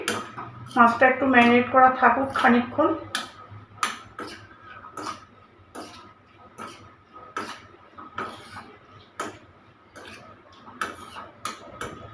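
A spoon scrapes and clinks against a bowl while mixing raw prawns with salt and turmeric. Light, irregular metallic taps and clicks sound close by, with a brief voice near the start.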